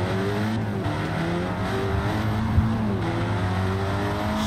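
Simulated car engine from the racing game Assetto Corsa, driven at speed through traffic, holding a steady loud drone with shifting harmonic tones and no talking.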